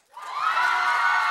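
An audience at a student government debate breaks into cheers and whoops after a candidate's closing statement, a sudden loud burst of crowd noise that swells and holds.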